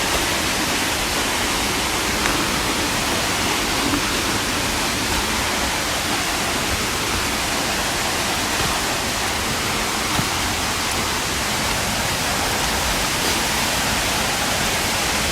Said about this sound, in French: Avec le bruit de la cascade